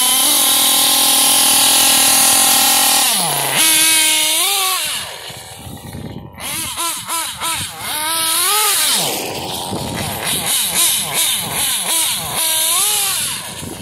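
A Kyosho nitro RC car engine fitted with an OS medium glow plug screams at high pitch, first a sustained wail, then repeated sharp rising and falling revs, loud and close.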